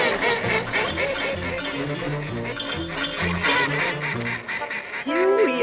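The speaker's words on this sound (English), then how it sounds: "Here we are, you cute little ducks, you." Ducks quacking and honking in a busy cluster nearby, overlapping calls with clinking sounds mixed in, and a louder burst near the end.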